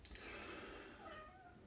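A cat meows from the back of a vehicle, a faint, drawn-out cry with wavering pitch that fades over under two seconds, heard against quiet background noise without speech.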